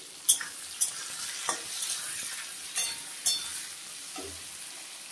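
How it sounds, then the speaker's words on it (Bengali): Onion and papaya frying together in oil with bay leaves make a quiet, steady sizzle, with a few sharp spoon clinks and scrapes spaced through it. "পেঁয়াজ আর পেঁপে একসঙ্গে ভেজে নেব।"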